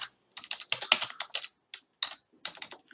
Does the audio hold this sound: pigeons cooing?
no